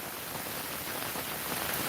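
Steady rain falling in a village in Sylhet, a dense even patter of drops on surfaces heard close and alone for a couple of seconds.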